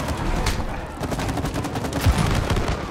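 Rapid bursts of gunfire from the co-op video game It Takes Two, a dense crackling fusillade with a few heavier booms, loud and continuous over a short stretch with no speech.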